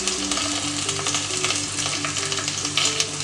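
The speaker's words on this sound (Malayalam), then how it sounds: "ചിക്കൻ ഇതിപ്പം 2 സൈഡും ഫ്രൈ ആയിട്ടുണ്ട്." Chicken pieces fry in hot oil for butter chicken, giving a loud, continuous sizzle and crackle up close, with faint stirring and no talk.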